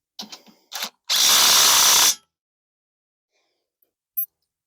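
Tightening bolts on a Harbor Freight backhoe thumb: a few short metallic clicks and scrapes, then a loud sustained powered whir lasting about a second, followed by silence and one faint click.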